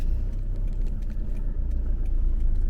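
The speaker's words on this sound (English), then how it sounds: "Now we're driving up to Grimsnäs B&B." A car drives along a road toward a countryside B&B, giving a steady low engine and tyre rumble that holds at an even level throughout, close and continuous with no talk.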